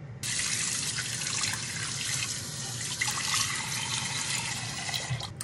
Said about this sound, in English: let's go ahead and rinse this off